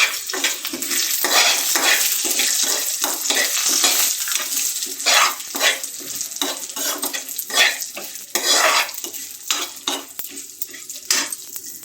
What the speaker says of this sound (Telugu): వేరుశనగ గుళ్ళు వేసుకున్నానండి